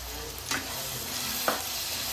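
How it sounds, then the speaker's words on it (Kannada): Salted onions fry in a pan, making a steady close sizzle with two brief stirring scrapes. "ಈರುಳ್ಳಿ ಚೆನ್ನಾಗಿ ಫ್ರೈ ಆಗ್ತದೆ ಉಪ್ಪು ಹಾಕಿದ ಮೇಲೆ"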